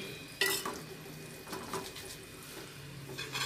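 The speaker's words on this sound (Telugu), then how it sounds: "కలిపి మూత పెట్టుకుందాం." Seeramenu fish curry is stirred in a pan and then covered. A spoon scrapes against the metal over a soft sizzle, with sharp clinks of utensil and lid scattered throughout. It is quiet and close, with no voices.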